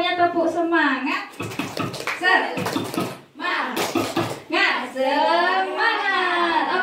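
A kindergarten teacher's group does the Indonesian "tepuk semangat" spirit clap, with sharp rhythmic clapping bursts woven into a loud spoken chant, and voices running throughout.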